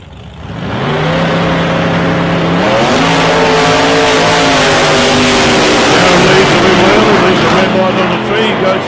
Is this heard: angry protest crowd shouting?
no